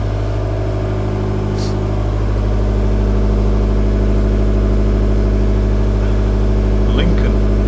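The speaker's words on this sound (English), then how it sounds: "another Ruston locomotive engine, Ruston diesel engine" A Ruston diesel engine runs steadily in the engine room of the ship SS Explorer, a constant close mechanical drone with a few brief clicks over it.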